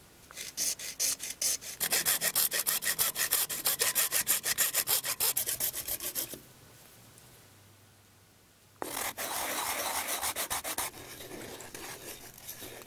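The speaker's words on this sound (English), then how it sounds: "This is just a hacksaw blade with a handle, and if I ride it along this as I cut, it should be nice and square." A hacksaw blade on a handle cuts through plastic pipe for a septic cleanout, rasping in fast, even back-and-forth strokes, close and loud, breaking off for a couple of seconds before resuming.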